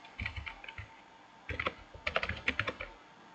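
Quick, light clicks from typing on a computer keyboard while filling in an online job application form, coming in short bursts with brief pauses, close and fairly quiet, with no voices.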